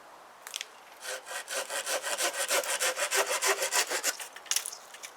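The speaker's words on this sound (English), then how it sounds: "So we're going to cut off a couple limbs and check it out." Steady back-and-forth sawing of a knife through tree limbs, about a dozen rhythmic rasping strokes, close and clear with no voices.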